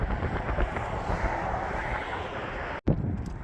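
Strong gusty wind buffets the microphone outdoors above a desert arroyo on a blustery spring day, a steady loud roar with a brief drop near the end, no voices.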